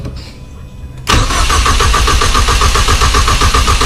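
Ford EcoBoost engine cranks and catches after an E85 fuel system purge, bursting loud at about one second from near silence and settling into a steady, rumbling idle up close.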